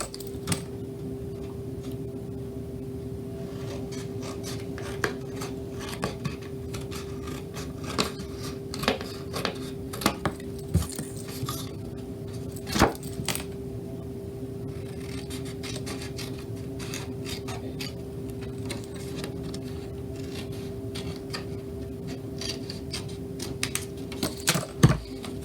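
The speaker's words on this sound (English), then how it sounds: "this one we need to cut out this long piece as well" A long strip of cardstock is cut for a card box, with scattered soft snips and scrapes of the blade and paper against a steady low hum across the whole stretch, without talk.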